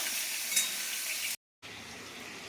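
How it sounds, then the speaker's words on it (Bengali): Oil frying in a pan for an egg curry with luchi, a steady broadband sizzle that runs loud and close, cuts out briefly, then resumes at a similar level with no voices. "এবারে এইগুলোকে ভাজা হোক, আর এখানে আমি তেলটা ভেজে নিচ্ছি"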